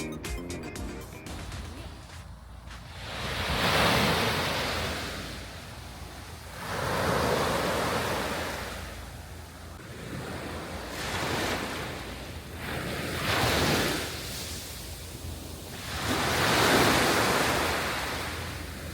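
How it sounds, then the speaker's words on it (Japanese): Ocean waves roll onto a beach in slow repeating surges, each swell rising and fading with a steady wash of surf and some wind. "波の音に癒されたい方にぜひおすすめなスポットでした。"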